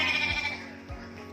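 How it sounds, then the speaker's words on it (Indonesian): Merino sheep at an eco park farm exhibit bleat twice in quick succession, wavering calls standing out over a steady background hum. "Kalau ini domba merino."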